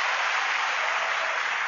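Dense, steady applause from a large crowd of about 5,471 people, a continuous wash of clapping that stays loud and even throughout with no pauses.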